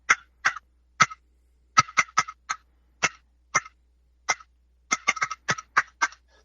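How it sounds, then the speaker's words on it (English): Sharp, dry turkey clucks from a wooden box call tapped with its paddle, some single and some in quick clusters, loud and close with silence between. "some guys they cannot make a cluck noise with a box call"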